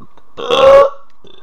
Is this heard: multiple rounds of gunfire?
no